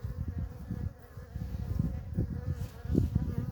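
Honey bees hum steadily and close at a queenless beehive, a continuous low droning buzz that swells slightly at times, with no voices.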